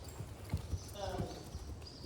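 Horse hooves clop on the ground in a few uneven steps, heard close, over steady outdoor background noise with a hint of voices.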